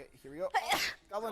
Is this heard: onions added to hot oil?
no